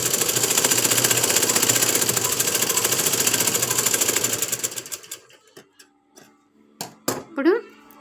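A sewing machine stitches cloth in a fast, steady mechanical chatter for about five seconds, then stops and gives way to a few scattered clicks and handling knocks.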